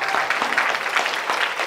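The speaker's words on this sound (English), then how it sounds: "Another round of applause thank for you" Audience applause for a finalist at the 2016 UCLA Grad Slam competition, a brief burst of dense, moderately loud clapping from a crowd.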